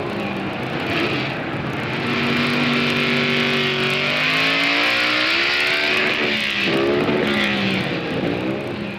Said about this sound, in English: The kings of the quarter mile are the dragsters, invented for super acceleration.